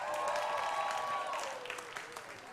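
Church crowd at a comedy set cheering, whooping and clapping, loud at first and tapering slightly toward the end, with a sustained shout ringing over the applause.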